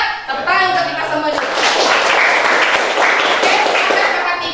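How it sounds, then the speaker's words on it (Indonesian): A classroom group of teachers breaks into lively clapping after a speaker's brief talk at the start, the applause dense and loud, with voices and some laughter mixed in. "Tepuk tangan untuk kita semua"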